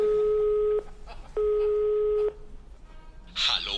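Two long steady telephone ring tones sound after a Rome hotline number is dialed, separated by a short pause, followed by a burst of noisy speech-like sound at the end.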